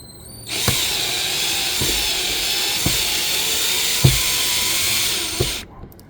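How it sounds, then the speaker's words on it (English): A power drill whirs continuously for several seconds unscrewing screws on a 2021 Jeep Wrangler JLU during an air filter replacement, with periodic clicks or knocks as it works, then stops abruptly. "So we're going to get in there with the drill."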